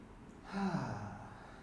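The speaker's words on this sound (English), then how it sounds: "I just want you to take a couple deep breaths" A single deep breath drawn in and let out during a floor-based hip stretch, soft and close, a breathy inhale swelling then easing into a long exhale against quiet room tone.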